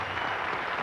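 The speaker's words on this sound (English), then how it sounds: "How about a round of applause for him?" An audience applauds escape artist Norman Bigelow at a live escape show, a short, dense burst of clapping heard close and steady throughout.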